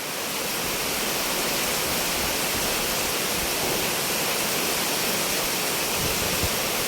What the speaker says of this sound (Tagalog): Malakas yung hangin, malakas din yung ulan.